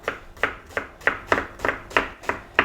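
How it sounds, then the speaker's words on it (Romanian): A knife finely chopping onion on a board, about eleven steady crisp chops in a regular rhythm, close and clear with no talking. "eu mă apuc să tai ceapa, da? Și o să o tăiem mărunt"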